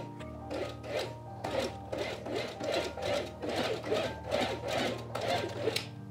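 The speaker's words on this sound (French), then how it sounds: "Je vais fermer les 2 pinces." A sewing machine stitches the darts on the front of a summer blouse, with close rhythmic bursts of mechanical whirring and needle clatter separated by brief pauses, no talk.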